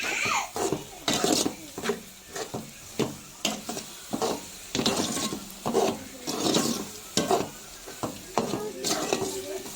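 Goat blood fry being stirred in a pan, with repeated rhythmic scrapes and knocks of a spoon against the metal over a low sizzle, close and fairly loud.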